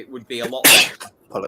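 A single sharp sneeze bursts out loud and close in the middle of a man's speech, with talking just before and after.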